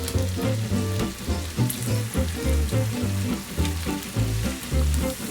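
Bacon and sliced potato frying in a pan for a cheese galette, steady dense sizzle with occasional crackles and scraping under background music, no speech.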